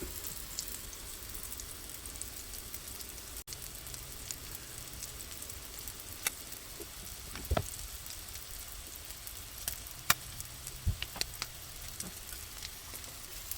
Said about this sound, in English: make some patties and put them straight in. Let these cook for a little bit.